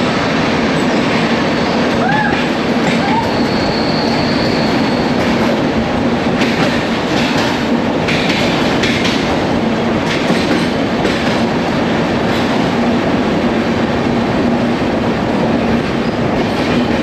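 A fast train on the Vizag to Araku line roars steadily and loudly throughout, with a continuous rumble, rattling wheels and brief squeals; no talk.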